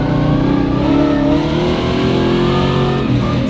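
A 1300-horsepower 2JZ engine swapped into a Polaris RZR with a Turbo 400 transmission roars loud and steady at high revs, its pitch climbing slightly as it accelerates, heard close without a break.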